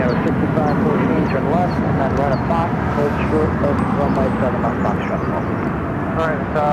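An Airbus A350 airliner rumbles steadily at Phoenix airport, a broad continuous engine roar heard from a distance, with radio chatter and a person talking layered over it throughout.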